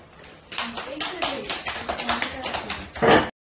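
A class of middle-school English academy students claps after a presentation, a brisk burst of many hands rising at once, with pulsing claps and a louder flourish before stopping abruptly.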